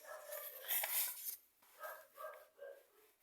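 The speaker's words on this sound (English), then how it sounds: "And there goes my dog barking again." A dog barking from another room, faint and muffled, in a few short bursts: a louder cluster early on, then a series of softer barks, with no talk over it.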